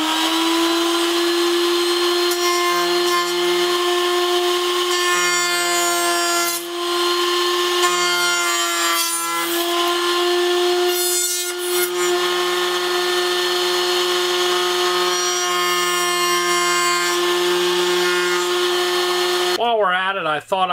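A router fitted with a top-bearing pattern bit rounds over a board edge to a 3/4 inch radius while building a coat rack. It makes a loud, steady motor whine for about twenty seconds, with the cutting noise shifting slightly as the bit moves along.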